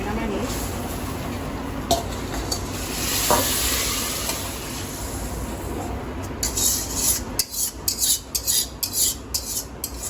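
Small fish coated in turmeric, salt and chili fry in hot mustard oil in a wok with a steady crackling sizzle, followed by scraping utensil strokes against the pan and a person talking.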